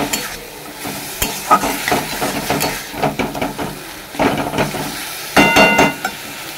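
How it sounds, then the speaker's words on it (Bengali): Vegetables fry in a pan while being stirred, giving scraping, clattering strokes over a steady sizzle, with louder bursts of stirring toward the end. "চলো এবার ভেজে নিই"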